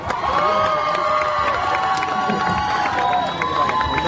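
An outdoor crowd at a tomato festival eve concert in Hwacheon applauds and cheers in a dense, continuous wash, with shouts and whistles rising over sustained clapping throughout.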